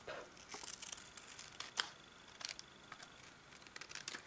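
Paper card being cut with scissors, a faint close-up run of small snips and crisp crinkles with one sharper click in the middle, no talk.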